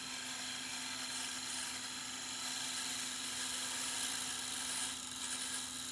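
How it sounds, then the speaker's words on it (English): A parting tool cuts into the end of a wooden spindle turning on a lathe, giving a steady close whine with a strong constant hum underneath, continuous and alone without talk. "Just going to use the parting tool."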